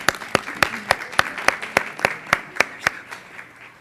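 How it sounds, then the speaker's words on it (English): Applause at a school board meeting, a short round of claps with distinct, fairly regular hand strikes that start brisk and slow and fade toward the end, moderately distant in a meeting room. "I think that deserves a round of applause"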